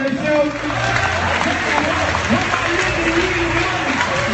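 Audience applause at a live event in France, a steady wash of clapping that fills the whole clip, with voices talking over it.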